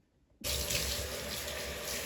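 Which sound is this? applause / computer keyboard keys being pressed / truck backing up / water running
water running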